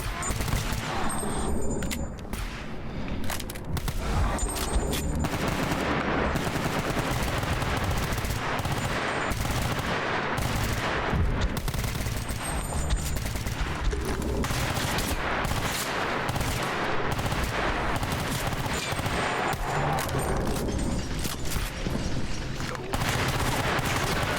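Rifle fire in a new caliber rings out in S.T.A.L.K.E.R. Anomaly, with dense rapid bursts and sustained volleys of loud game gunshots that nearly fill the span.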